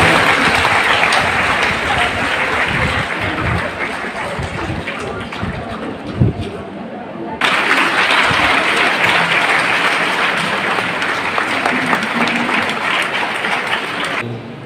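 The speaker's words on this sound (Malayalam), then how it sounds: "നല്ലൊരു കൈയടി കൊടുക്കാം." An audience claps at a community gathering for elderly people in Kottapuram, with dense, sustained applause that fills the hall, fades briefly in the middle, then swells again loudly for several more seconds.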